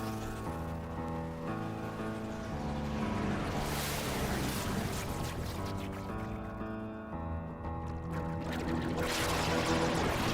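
Processed audio from the RYMDIGARE effects app washes back and forth like ocean waves over a sustained tonal drone, steady and moderately quiet with swelling noisy surges.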